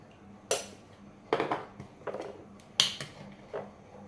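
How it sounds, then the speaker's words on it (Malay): Palm sugar and salt are pounded in a mortar, with five or six separate sharp knocks spaced irregularly, close and clear with no voices. "Kita tumbuk lagi sehingga semuanya hancur lumat."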